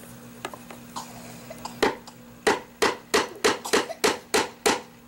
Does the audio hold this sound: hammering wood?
yes